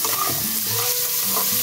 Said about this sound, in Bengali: ফোড়ন করার পর আমি পেঁয়াজ, টমেটো আর কাঁচা লঙ্কা তেলের মধ্যে ছেড়ে দিয়েছি